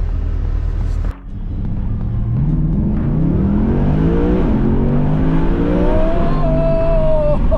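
A powerful naturally aspirated Mercedes AMG Black Series engine revs up hard on a freeway and climbs steadily in pitch through several gears, loud and close, with a brief dip near the start.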